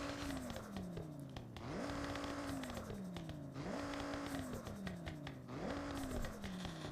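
A car engine in the racing video game Forza Horizon 6 revs up repeatedly, rising through gears with sharp drops between shifts in four climbing cycles, loud and close with a rasping exhaust tone.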